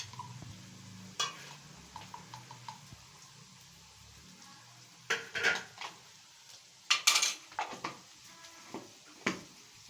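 A spoon stirs chaat masala through cooked macaroni in a metal pot, giving a scatter of soft scrapes and clinks with bursts of quicker clattering strokes, close by and alone with no talk.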